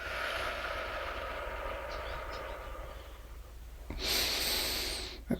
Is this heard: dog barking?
no